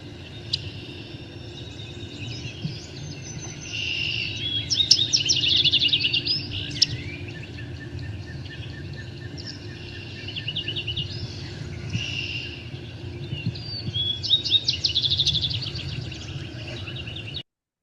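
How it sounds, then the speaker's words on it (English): A yellow-rumped warbler and several other birds sing and chirp in bursts over a steady low outdoor rumble, with brighter trilling phrases rising now and then against the background chorus. "this is what a yellow rump warbler sounds like"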